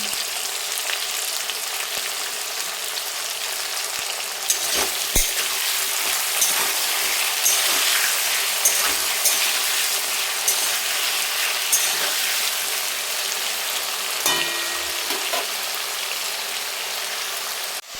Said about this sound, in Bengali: তা আলুগুলো হালকা লাল করে ভেজে নিচ্ছি